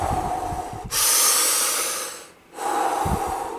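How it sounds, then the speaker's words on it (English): A person breathes deeply and heavily, drawing in one long, loud, rushing breath and letting it out again, with no talking. "I experimented around with doing deep, heavy breathing"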